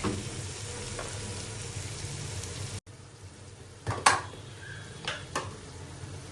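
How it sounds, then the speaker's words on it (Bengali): Spice paste of ginger, turmeric and coriander powder frying in a pan, a steady sizzle with a few sharp stirring clatters partway through. "এখন আমি মশলাটাকে ভালো করে কষিয়ে নিব।"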